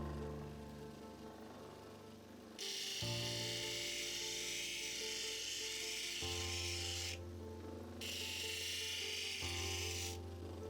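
A 1200 grit wheel grinds and smooths an opal stone with a steady, loud abrasive rasp that cuts in and out in long stretches, over a low motor hum and no talk.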